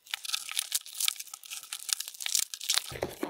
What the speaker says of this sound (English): here we've got the box, so we have to cut into it as always